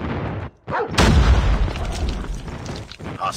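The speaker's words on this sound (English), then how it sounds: "Friendly airstrike incoming." Airstrike explosions in Call of Duty Hardpoint multiplayer, a loud booming blast that rolls on into a sustained rumble of ongoing detonations and battle noise, with a brief near-silent gap just before it.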